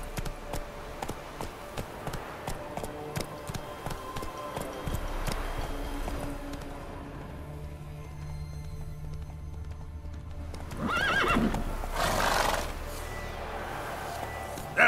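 Roach, the horse in The Witcher 3 video game, gallops with steady rhythmic hoof clip-clops over game music and ambience. The clatter surges louder near the end.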